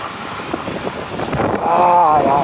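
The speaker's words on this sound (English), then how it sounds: "the wind is too strong for my umbrella." Strong wind in heavy downtown rain blows hard against the microphone, a rough low rumbling roar that builds louder over a couple of seconds.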